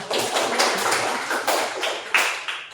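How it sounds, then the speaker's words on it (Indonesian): Students in a classroom clap together, a brisk run of crisp, fairly close handclaps forming a steady patter with a few stronger accented claps. "Tepuk tangan."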